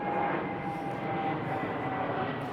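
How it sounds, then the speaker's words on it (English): A Qantas jet airliner flies low over a suburban street in Queens Park, Perth, giving a steady, loud engine roar with a faint whine that lasts throughout without any talking. "There's a Qantas jet over there."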